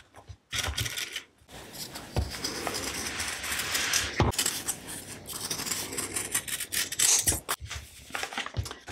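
Scissors cut out a quilted fabric baby bib in a steady series of crisp snips and rasping slides, close and fairly quiet, with short pauses between cuts.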